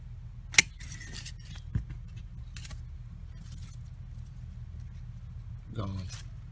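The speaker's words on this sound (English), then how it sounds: "the main one, I'm gonna cut this" Pruning shears give one sharp, close snip as they cut through a plant's thick main stem. A couple of fainter clicks and light rustling follow over a low background hum.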